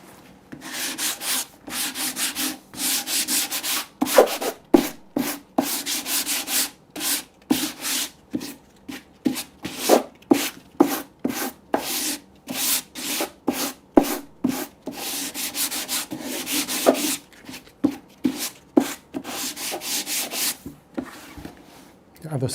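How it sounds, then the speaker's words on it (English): A wooden slipcase being hand-sanded, with rapid rhythmic back-and-forth scratchy strokes in bursts, close and fairly loud, pausing briefly between passes. "Now I'm going to sand, so I'm going to take down the microphone"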